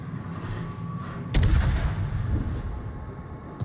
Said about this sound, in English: Now I'm going to shoot at that island.